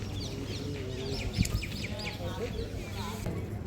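Birds chirping and calling around the Ammapalli Sri Sita Rama Chandra Swami temple near Hyderabad, a steady scatter of small calls at moderate distance, with some chicken-like clucking and faint voices in the background.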